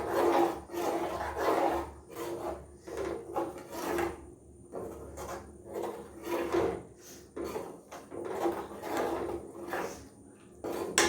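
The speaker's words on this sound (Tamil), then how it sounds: "ஸ்லோ ஃப்ளேம்லேயே வச்சு கிளறுங்க" A spoon scrapes and stirs thick moor kali dough in a pan over a low flame, a steady series of rasping strokes repeating roughly every half second to second, close up and otherwise quiet.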